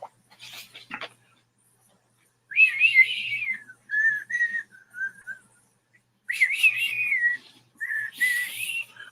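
A whistled melody from a film soundtrack, heard as two bright phrases of rising and falling notes separated by a pause, with a few short percussive hits at the start.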